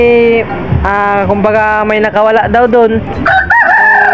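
A white rooster crows loudly and up close in a backyard, a long strained call that runs under and between someone talking, with clucking mixed in.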